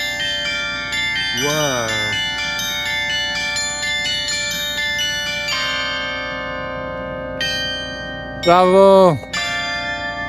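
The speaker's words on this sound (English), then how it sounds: "Echo Across the Harbor is a musical installation of 38 bronze bells that play 72 melodies, reviving the lost maritime sounds of the old port." An installation of 38 bronze bells at an old harbor port in Kaohsiung, Taiwan, rings out a melody in clear, sustained tones. A few voices exclaim briefly over the chimes, and a louder swell arrives near the end.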